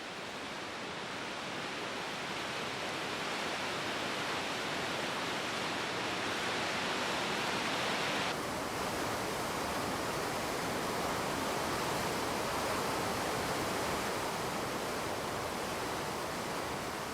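River rapids at a waterfall in Africa, where the water rushes over granite, give a constant loud, broad roar with no pauses or voices.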